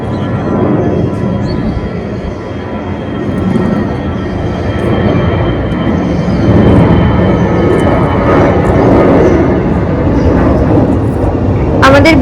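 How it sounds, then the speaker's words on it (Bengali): An airplane flies overhead near an airport on a windy, sunny day, making a broad, steady roar that slowly builds and stays loud throughout, with wind noise mixed in. "আমাদের বাড়ির কাছেই হচ্ছে এয়ারপোর্ট, তা সেজন্যই সচরাচর প্লেনের আওয়াজটা পাওয়াই যায়।"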